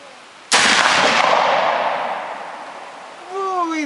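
A single loud black powder cartridge rifle shot cracks sharply nearby, then booms and rolls away in a decaying echo across open ground, followed by a faint voice at the end.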